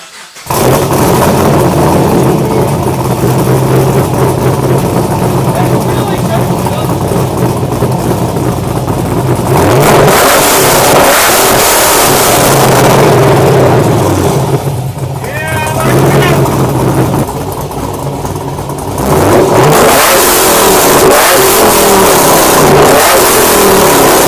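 A cammed Chevrolet Camaro with a newly installed exhaust revs loudly and up close, its choppy lumpy idle rising into repeated throttle blips, with people talking over the engine.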